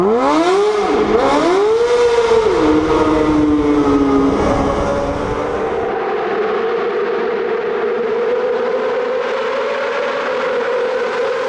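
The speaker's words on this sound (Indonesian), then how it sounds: "sepeda motor juga dapat menghasilkan suara yang sangat bising" A loud motorcycle engine revs up and down sharply at first, then settles into a steady, close, droning roar.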